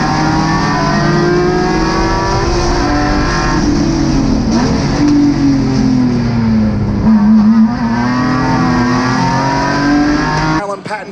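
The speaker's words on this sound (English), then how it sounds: "green flag, and we're underway at Gingerman Raceway towards turn 1" Race cars in a GridLife GLGT field accelerate from a green-flag start at Gingerman Raceway, a loud sustained roar of engines revving and rising in pitch throughout, with commentary talk over it.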